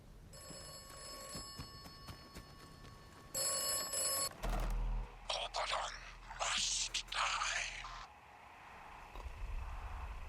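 A red public phone box rings inside the video game Atomfall. Its bell tone rings loudly in two separate bursts at the start, and later there is louder rustling and movement noise along with some low rumble.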